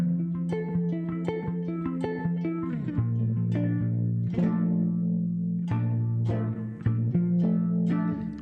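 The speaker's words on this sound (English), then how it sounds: "Maybe there's too much distortion on it." An electric guitar played through a distortion effect at a live music session, sustained fuzzy chords and notes shifting every second or so, loud and reverberant with no talking.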